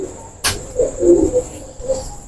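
After one sharp click, a golden pigeon gives a few low, brief coos close by, the first pair running together and a softer one following, over a faint steady hiss.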